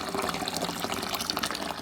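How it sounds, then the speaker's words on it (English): Hot water pours steadily into a wheat beer grain mash, about 30 litres going in, a continuous close splashing gush with no talking. "Here we've got the water running off into the grain."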